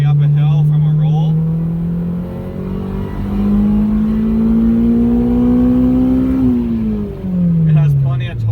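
A Honda Insight fitted with a K20Z1 engine pulls uphill from a roll in third gear, its loud, steady engine note climbing gradually in pitch for several seconds before easing off briefly and rising again.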